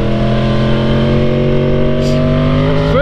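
Yamaha R1 sport bike engine revving hard in a low gear, a loud close whine climbing steadily in pitch, then a quick shift as the note drops and begins rising again.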